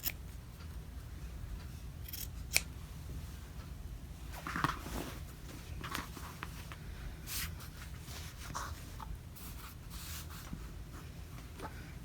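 Scissors trim the backing at the edge of a quilt with a scattered series of soft, close snips and rustles over a low steady background, with no speech.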